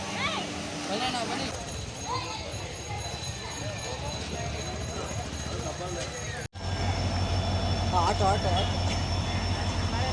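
A train rumbles past steadily and loudly, with rhythmic clattering and people talking over the noise.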